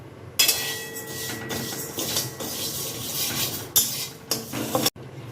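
Moong dal dry-roasting in a kadai, stirred with a spatula: repeated scraping and rattling strokes against the metal pan, fairly close, with a few louder clanks and a brief gap near the end.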